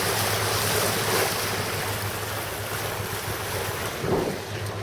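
A sailboat cuts through choppy water against currents, with steady wash of waves against the hull and buffeting wind noise on the microphone, continuous and fairly loud.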